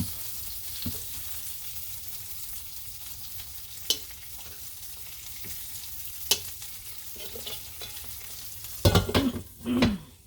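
An egg fries in a pan with a steady soft sizzle, broken by a few sharp taps and scraping sounds and a louder clatter near the end.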